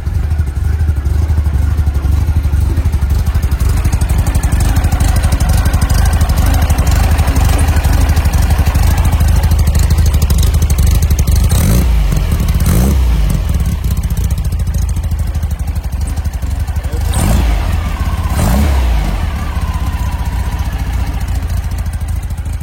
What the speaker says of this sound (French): Premier coup de clé, moteur froid, il est régulier.